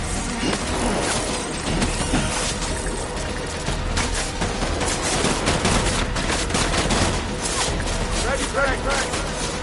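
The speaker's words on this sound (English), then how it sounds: "Open fire." Heavy gunfire in Death Stranding's finale: dense, continuous bursts of shots with crackling impacts across nearly ten seconds, loud and busy, mixed with splashing-like noise and speech in the background.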